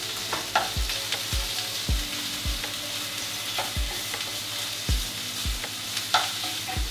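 Minced beef sizzles steadily in a pan while a spatula chops and breaks it up, giving repeated dull knocks against the pan every half second or so over continuous frying hiss. No one speaks.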